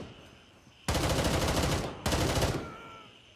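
Gunfire in the military shooter video game GrayZone Warfare: two loud, sustained bursts of automatic fire, the first longer than the second, separated by a brief pause against a quiet ambient background.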